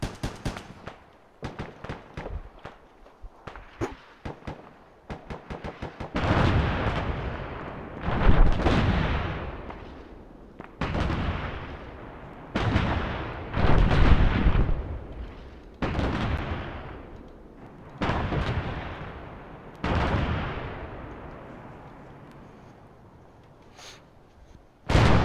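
Gunfire and heavy explosions in the military shooter game ArmA 3, a loud sequence of repeated blasts and booming bursts spread across the clip, some rumbling on and fading out, with no talking.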